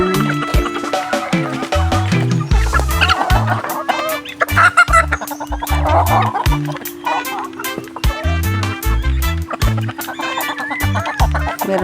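Roosters and hens cluck steadily at close range, with loud repeated calls overlapping throughout, while a low rhythmic thumping runs beneath.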